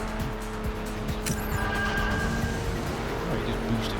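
Cars race in Hot Wheels World Race on the PS2, engines roaring close with tire squeal as they go down a nitrous jump, a dense, continuous racing din with faint talking underneath.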